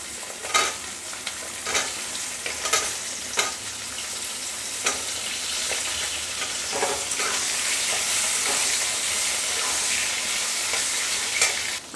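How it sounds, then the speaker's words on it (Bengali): Potatoes and taro fry in an oiled pan tempered with green chilies, a continuous close sizzle broken by the scrape and clatter of stirring. "আমি কচুটাকে আলুটাকে একটু ভালো করে ভেজে নিয়ে"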